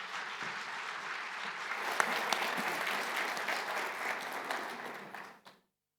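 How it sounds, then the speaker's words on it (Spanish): An audience at a green hydrogen investment panel breaks into a long round of applause, dense steady clapping from a sizable crowd that holds for about five seconds before fading out. "Los recibimos a todos y a todas con un gran aplauso."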